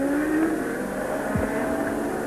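A Formula 1 car with a Renault engine screams past at the 1985 San Marino Grand Prix, a high engine whine sweeping in pitch over steady broadcast track noise.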